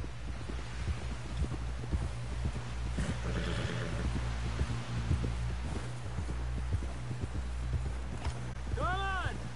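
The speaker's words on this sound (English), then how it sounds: "Someone help John down off this horse" Horse hooves clip-clop steadily through Red Dead Redemption 2 as a rider heads toward camp, a continuous rhythmic trot over a low droning score, with voices calling out and a brief whinny near the end.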